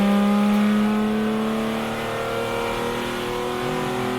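A BMW M1 ProCar race car engine revs hard and rises steadily in pitch as it accelerates, loud and close, with no voices over it.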